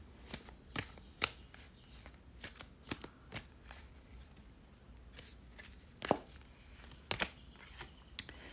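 Tarot cards being shuffled by hand, close and fairly quiet, with a steady run of soft riffling and papery slaps and sharper snaps every second or so over about eight seconds.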